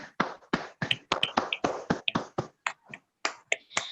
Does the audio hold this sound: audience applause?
yes